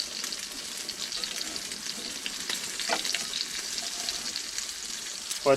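Venison fries in hot oil with a dense, even hiss and crackle that stays close and constant throughout, with a small clatter at the very end and no speech.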